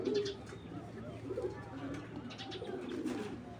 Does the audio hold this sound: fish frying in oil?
no